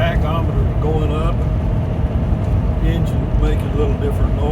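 A Class C motorhome engine drones steadily with road noise, its pitch rising slightly as it revs, with faint voices underneath.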